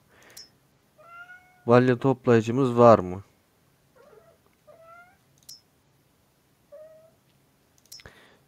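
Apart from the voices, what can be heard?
cat meowing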